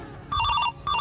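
A telephone rings in two electronic bursts, a warbling ringtone close by, with a short gap between rings and no speech over it, set in a Maithili-language comedy sketch at home.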